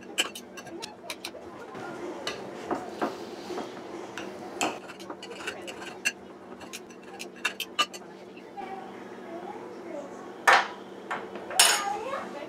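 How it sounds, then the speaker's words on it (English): Knife chopping meat on a cutting board for a Chinese meal prep, a series of sharp, irregular taps close by, some bunched in quick runs, over a steady low hum with a few louder knocks near the end. "I finished cutting up these meats here"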